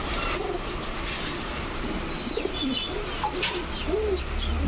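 Grizzle racer pigeons in a loft give several soft, rolling coos spread through the middle and end, with higher chirps above a constant background hiss.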